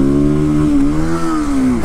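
A Kawasaki KLX250 dirt bike engine revving hard for a wheelie, loud and close. The steady high-rpm drone's pitch rises slightly and then dips.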